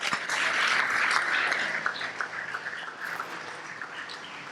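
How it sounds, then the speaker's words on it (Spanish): Church congregation applauding during a Spanish-language sermon, a full burst of clapping that swells at the start and then gradually tapers into lighter scattered claps. "démosle un aplauso al Señor"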